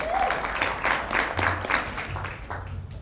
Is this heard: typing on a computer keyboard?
no